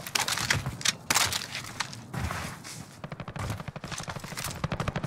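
Gunfire exchanged in Call of Duty Warzone, with rapid bursts of automatic shots and sharp single cracks in quick succession, loud and close, with no talk over them.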